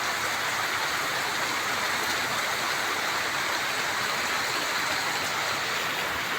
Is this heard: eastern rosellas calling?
no